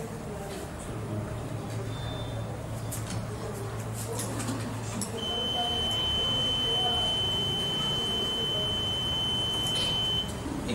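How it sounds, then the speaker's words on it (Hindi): An electronic voting machine at a polling station gives a long, steady high beep through the second half, over ongoing talk and room noise, after a brief earlier beep. "एक बीप की आवाज आती है"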